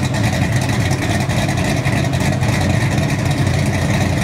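Chevy 383 stroker small-block V8 rated around 400 horsepower runs steadily, a loud, continuous low rumble close to the exhaust with no speech over it.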